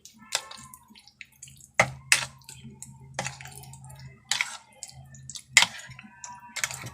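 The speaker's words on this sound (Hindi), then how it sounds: "एक चम्मच सोया सॉस, इसको अच्छी तरह मिक्स कर लेंगे।" Chicken marinade with soy sauce is mixed in a bowl, giving close wet squishes and sticky clicks in irregular bursts over a faint low hum, with no talk.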